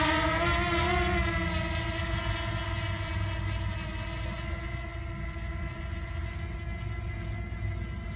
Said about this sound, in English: it's very familiar from what we hear with the DJI Mini drone